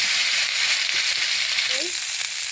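Potato and cauliflower pieces fry in hot oil, making a close, steady hiss and crackle with a brief stir near the end.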